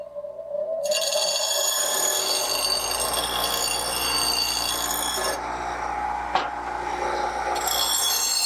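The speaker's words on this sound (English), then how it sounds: "now I need to go and grind them a little" Metal scrolling tongs being ground at a forge workbench, a loud continuous abrasive grinding whine that starts abruptly and runs steadily without pause, with a brief sharp tick near the end and no talk.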